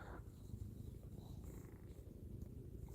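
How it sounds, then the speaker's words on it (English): Pet cat purring close and steady, a continuous low rumbling throb with soft breathy texture and no pauses throughout. "Yep, lots of kitties."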